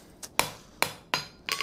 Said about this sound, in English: That is just using a rounded faced hammer.